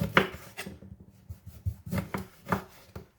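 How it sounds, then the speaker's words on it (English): Several short, sharp knife cuts through a lime on a board, irregularly spaced, close and crisp in an otherwise quiet setting. "some lime, which I want to cut up and put inside of the blender"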